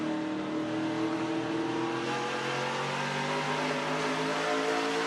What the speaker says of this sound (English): You can hear the RPMs build.